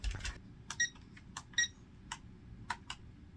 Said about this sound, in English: You're beeping at me, but nothing is happening